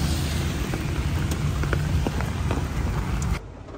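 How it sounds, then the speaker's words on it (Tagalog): Heavy rain pours steadily in Paete, Laguna, a dense, loud broadband wash with scattered drop impacts, continuous until it drops away sharply near the end. "grabe lumakas po yung ulan kaya kami mabilisan lang ni Sir Robert"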